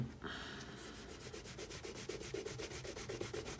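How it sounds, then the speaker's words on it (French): An eraser rubs out pencil construction lines on paper for a drawing, a quiet close scrubbing that speeds into rapid back-and-forth strokes, with no voice. "on peut gommer du coup notre aide de construction"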